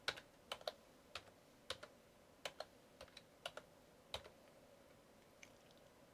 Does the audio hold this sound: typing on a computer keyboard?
yes